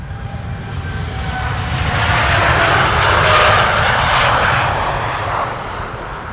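A ten-year-old TUI Boeing 787 Dreamliner departs Amsterdam Schiphol, its jet engines building to a loud, close roar that swells in the middle and then eases slightly.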